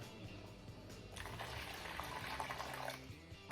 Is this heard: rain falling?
no